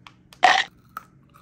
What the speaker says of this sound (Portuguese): Crocante, eu tô vendo que é, né? Tô ouvindo.